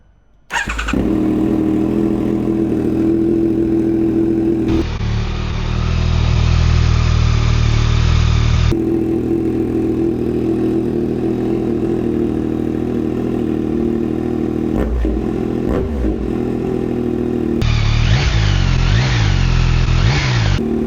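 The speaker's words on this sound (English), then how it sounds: "Time for the first ever cold start and sound of this RaceFit Growler X exhaust for 2025" A 2025 Yamaha MT-09 fitted with a RaceFit Growler X exhaust fires up from cold, then idles loudly with repeated sharp throttle blips and revs rising and falling across the whole stretch, with no talking.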